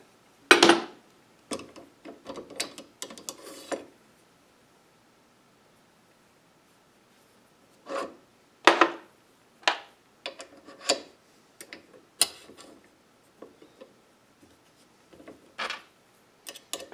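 A metal rod is bent on a rod bending jig in a workshop, with intermittent scraping and creaking metal sounds in short bursts separated by a long quiet gap, close and moderately loud.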